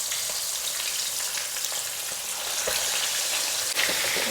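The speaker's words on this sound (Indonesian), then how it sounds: "jadi untuk bikin ayam kecap pertama-tama saya bakalan goreng sebentar dulu ayam yang sudah dimarinasi" Marinated chicken pieces frying in a pan for ayam kecap give off a steady, loud sizzle and crackle with a few sharp pops, and no voices over it.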